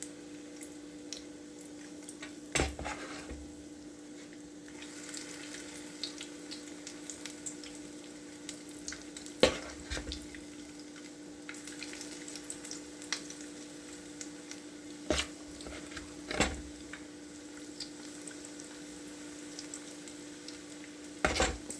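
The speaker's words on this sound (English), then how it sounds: "I'm going to let them fry." Chicken fritters fry quietly in a pan with a faint, steady sizzle, broken now and then by soft knocks and clicks.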